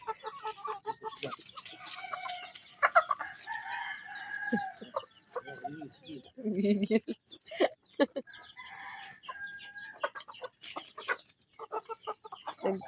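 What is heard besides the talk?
chickens and roosters crowing and clucking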